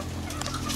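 Green junglefowl clucking on a farm, a few short soft clucks over steady low background hum, close and fairly quiet.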